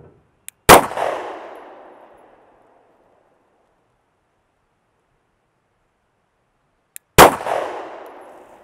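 Two sharp gunshots from Norma 124-grain hexagon hollow point rounds, each a loud crack followed by a decaying outdoor echo, spaced several seconds apart with silence between.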